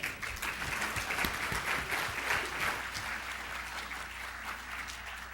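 An audience applauds a speaker being welcomed onto the stage at a job hunters boot camp event, a steady, dense wash of clapping held at a fairly even level for several seconds with no talk over it.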